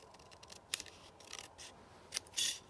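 Scissors trimming closely around die-cut paper letters for a card, heard as a series of quiet, irregular snips and paper rustles.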